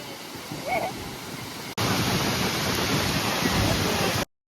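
Steady, dense roar of rushing water at Chitrakoot Falls, loud and broadband, continuing throughout before cutting off abruptly near the end.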